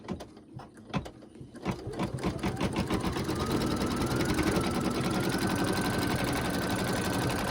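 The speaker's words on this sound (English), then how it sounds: "now it's going to stitch out where the daffodil is going to go" An embroidery machine stitches out a daffodil placement outline for a Kreative Kiwi coaster, starting with a few slow, separate stitches that speed up into a loud, steady, rapid mechanical chatter.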